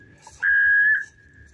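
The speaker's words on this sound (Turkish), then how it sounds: "Düdüğün sesini duyun arkadaşlar." A single short, clear whistle note from a quail call whistle, sounding once for about half a second over a quiet background.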